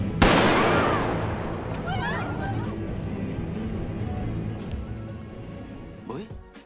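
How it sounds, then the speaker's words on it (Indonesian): A gunshot cracks loudly inside a building in a film scene, followed by a long reverberant tail, with a few fainter shots and scraping noises trailing off and another shot near the end. "Suara tembakan dari dalam gedung pun terdengar hingga keluar gedung"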